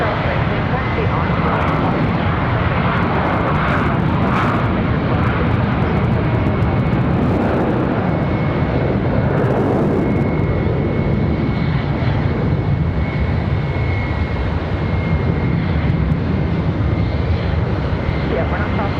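An Airbus A321 airliner taxis at Charlotte Douglas International Airport, a steady, loud engine drone that holds throughout, with a thin whine on top and radio voices over it at times.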